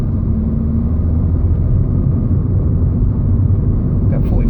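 A car engine drones steadily and close from inside the cabin, low and continuous as the driver gives more gas in busy traffic, with no clear rise in pitch.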